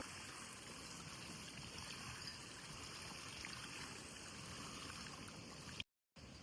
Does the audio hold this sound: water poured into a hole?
yes